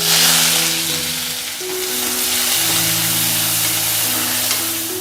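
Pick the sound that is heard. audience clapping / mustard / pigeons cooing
mustard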